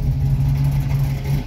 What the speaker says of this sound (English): I'm going to get out of the car now, I'm going to leave it running